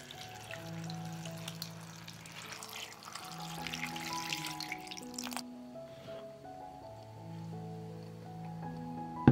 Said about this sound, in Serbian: Sipaću u šerpu vode da prekrije kupus.